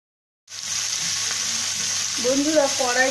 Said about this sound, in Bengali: আমি এখন এর মধ্যে রসুন আর লঙ্কা কুচি দিলাম, আর দিয়ে দেব সবজিগুলো।